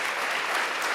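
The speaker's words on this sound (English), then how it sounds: "Give them a round of applause." An audience claps steadily for a 5th grade band at a school band concert, a brief, even burst of applause from a full room.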